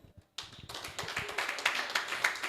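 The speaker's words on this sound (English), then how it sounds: "A round of applause for yourselves." Audience at a high-school educational seminar applauding, a dense wash of clapping that rises after a brief pause and keeps going steadily, fairly close and loud.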